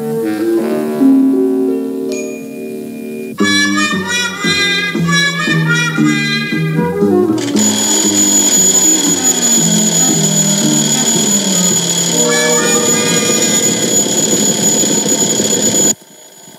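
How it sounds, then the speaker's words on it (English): An old alarm clock rings loudly, starting with tonal chimes and building into a sustained, continuous bright ringing that runs for about fifteen seconds before cutting off abruptly. "the professor set that old alarm of his for 9:30. And there it goes now."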